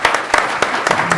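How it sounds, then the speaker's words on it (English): An audience at a children's aid foundation event applauds its speakers, loud nearby clapping with sharp individual hand claps standing out over a fuller round of applause. "I'd actually like to start by giving them all a round of applause."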